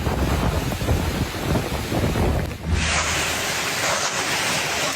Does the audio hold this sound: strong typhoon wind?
yes